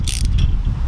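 Rubber mounts on a Green Touch trimmer rack being snugged up, a brief close ratcheting and mechanical clicking over a low rumble.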